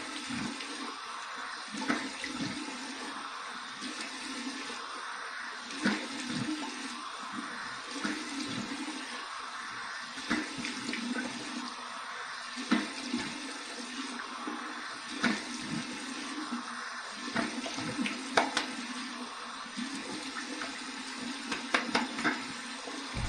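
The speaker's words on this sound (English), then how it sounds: "cold water rinse." Cold tap water runs steadily into a sink for a rinse while shaving, a constant close hiss with small splashes and clinks, no voices.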